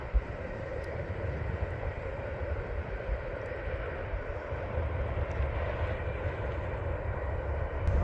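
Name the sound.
Norfolk Southern coal train passing southbound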